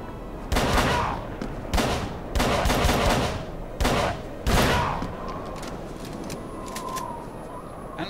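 Enemy gunfire in the horror game Call of Cthulhu, coming as several loud, close bursts of rapid shots separated by brief pauses, then fading into a quieter, echoing tail.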